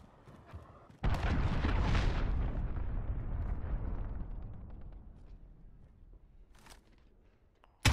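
A cruise missile strike in the Modern Warfare video game lands as a sudden heavy explosion that roars and rumbles, then slowly fades over several seconds, with a faint crackle before it and another burst starting at the very end.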